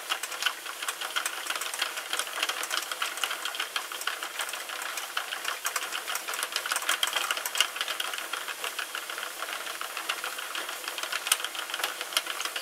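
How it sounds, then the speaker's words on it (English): A Sentro circular knitting machine being cranked, giving a steady, dense run of rapid mechanical clicking and ratcheting at an even pace for the whole stretch, close and moderately loud with no talk over it. "But now I'm going to start cranking on it."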